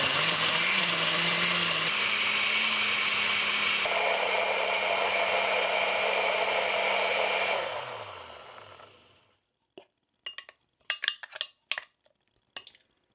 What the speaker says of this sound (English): Let's start blending.